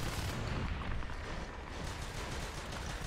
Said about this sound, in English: Hackatry now firing from the doorway